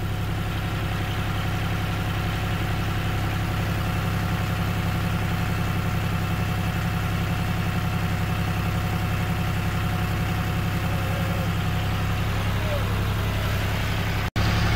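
A tractor engine idles steadily with a low, even rumble throughout while it lifts a Mercruiser 5.7 engine out of a 1997 Maxum 2300SC cuddy cabin boat, ending with a sudden sharp click.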